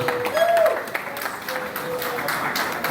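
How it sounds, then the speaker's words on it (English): An audience at a professor's celebration party gives a round of applause, a steady wash of clapping with a faint tone and murmur beneath it. "A round of applause."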